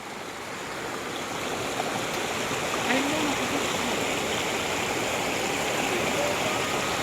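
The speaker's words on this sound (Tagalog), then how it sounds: "Hindi ba malakas ang agos" Strong river current rushing steadily and loud over rocks in a mountain river, a continuous close roar with people talking faintly over it.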